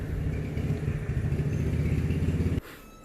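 A motorcycle's engine drones close by with a steady, buzzy mid-range note for about two and a half seconds, then cuts off abruptly. No one speaks.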